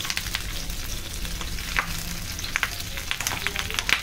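Surmai fish pieces coated in green chutney fry in hot oil over a medium-to-high flame, giving a steady close sizzle with brief crackles and spits.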